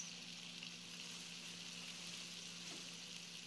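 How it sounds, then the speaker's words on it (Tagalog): Tomatoes simmering in a pan, giving off a soft, steady sizzle and bubbling hiss, faint and continuous, with no voices. "Habang niluluto ang kamatis"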